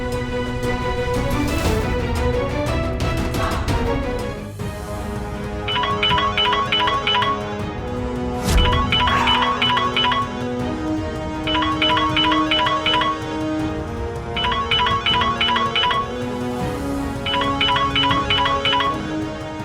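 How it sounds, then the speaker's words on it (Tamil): A mobile phone rings with an incoming call during a Tamil TV serial scene: a repeating melodic ringtone phrase comes in bursts over dramatic background music, with no talking. "மீரா தான் ஃபோன் பண்றா"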